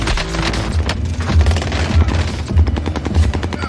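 Loud, continuous automatic gunfire from a video game shooter, rapid bursts with deep booming thumps underneath, steady and close throughout with no clear speech.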